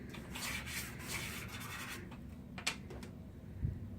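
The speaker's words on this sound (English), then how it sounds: "we're just going to rub it along the outsides" Blue chalk rubbed along paper in a children's art lesson: soft, dry scraping strokes in repeated passes, fairly quiet and close, with a couple of light taps near the end.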